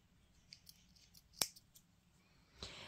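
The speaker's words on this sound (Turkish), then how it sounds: "Buradaki fazla kalan ipimin ucunu da kesiyorum." Scissors snip a leftover yarn end on a seamless two-needle knitted bootie. There is one sharp, close cut between faint handling noises, then a softer second snip.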